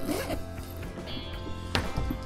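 A zipper runs along the pocket of a patchwork fabric bag made of printed cloth, a close raspy zip with a sharp pull near the end, heard alone.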